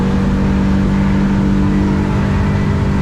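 A motorboat engine on the river runs loud and close with a steady droning roar that holds strong the whole time.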